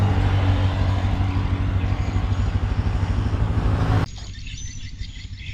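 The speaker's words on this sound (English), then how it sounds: "some have speakers on them that have bird noises to attract more birds" Dense recorded bird chirping plays from loudspeakers on bird-nest buildings in Cambodia over a steady mechanical hum, then drops suddenly to quieter, sparser calls.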